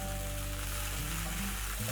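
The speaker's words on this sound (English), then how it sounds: "So I've reduced the heat to medium flame so that I can saute my broccoli." Broccoli sauteed in a pan over a medium flame and turned with a wooden spatula, giving a dense, steady hiss like light rain that stays close and continuous.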